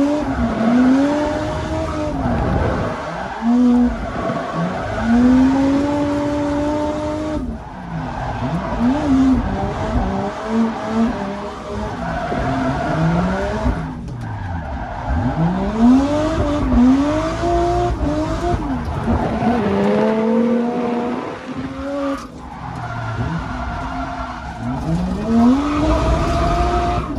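Nissan S13 drift car with a 1JZ engine, revving hard with long tire squeals that rise and fall, sustained and loud across repeated drift passes, with no talking.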